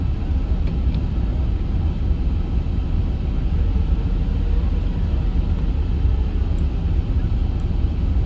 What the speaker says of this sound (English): And let's continue taxiing to the gate